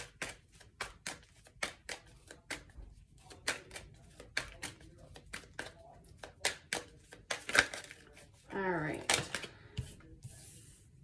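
Tarot cards shuffled for a love reading, a series of sharp papery riffles and slaps in an uneven rhythm, close and fairly quiet, with a longer rustling burst near the end and a brief spoken remark.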